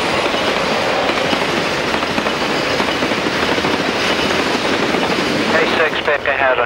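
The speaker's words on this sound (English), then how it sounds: "There are plenty of trains on the nearby CSX tracks, though. Southbound Q604 is a prime example." CSX southbound freight Q604 rolls past steadily and loud, a continuous rumble with clattering wheels over rail joints throughout, filling the whole stretch without letup.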